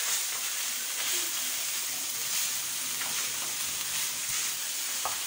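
Shredded cabbage fries in a pan as filling for chicken egg rolls, giving a steady, even sizzle and hiss with a few faint stirring scrapes and no voices.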